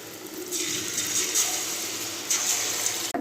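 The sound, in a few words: bonda frying in hot oil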